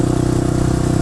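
A Suzuki DR 650 supermoto's single-cylinder engine idles close by, a loud, steady low thumping pulse with a slightly uneven beat and no talking.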